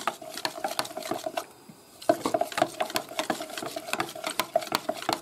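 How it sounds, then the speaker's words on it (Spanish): A spoon stirring cornflour dissolved in liquid inside a bowl or pot, giving rapid repeated clinks and scrapes in an uneven rhythm, close and fairly loud, with a brief pause midway before the stirring resumes. "Con una cuchara la movemos bien para que no haya"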